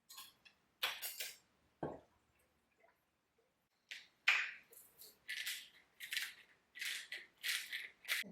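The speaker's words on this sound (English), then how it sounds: "now it says to whisk in the milk, salt, and pepper." A whisk scrapes and clinks against a pan while milk, salt and pepper are stirred in, coming in short bursts of rattling strokes with pauses between them, close and fairly faint.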